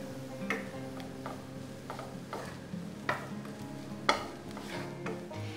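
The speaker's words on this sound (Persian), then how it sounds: "یه قاشق غذاخوری نعنای خوش 1 دقیقه تفتش میدم." Gentle sizzling of dried mint sautéing in a pan with periodic stirring clicks and taps, a spoon scraping as it sautés briefly.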